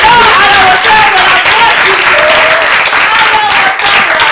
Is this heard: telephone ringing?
no